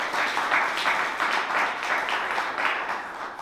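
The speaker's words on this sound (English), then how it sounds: "Can we have an applause for the poem and the poet?" An audience at a poetry reading applauds a poem and its poet, producing moderate clapping that swells and ebbs in regular waves across a few seconds.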